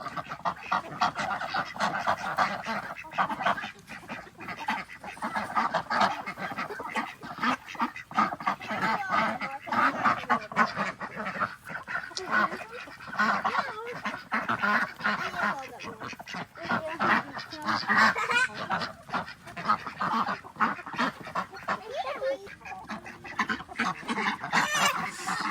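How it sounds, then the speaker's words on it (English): Ducks and geese gathered at a homestead door, quacking and honking continuously in a busy, overlapping chorus close by, with occasional faint human voices underneath. "This is why the ducks come to the door."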